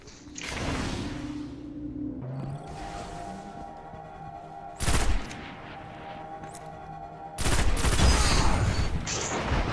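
Gunfire in the sci-fi shooter Destiny's Crucible multiplayer: loud bursts of pulse rifle fire with whooshing effects, a strong blast near the middle and a dense, sustained volley toward the end, with no talking.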